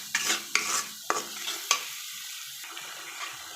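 Spice masala is stir-fried in a hot pan: four sharp, close scraping strokes over a sizzling hiss, then quieter frying with softer stirring. No one speaks.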